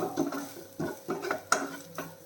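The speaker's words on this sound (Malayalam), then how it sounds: "എല്ലാം കൂടെ മിക്സ് ചെയ്തേക്കാം" Cowpeas and grated coconut being stirred in a pan, with a spoon scraping and clinking against the pan in several distinct strokes, close and moderately loud, with no talking.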